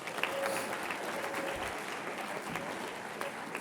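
An audience at a middle school declamation event gives steady, dense applause, many hands clapping evenly at moderate volume throughout the short span.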